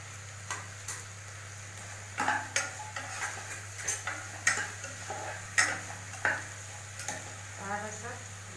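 Food stirred in a pan in an Assamese village kitchen after browning: irregular spoon scrapes and clicks against the pan over a steady low hum, with faint sizzling, no talk.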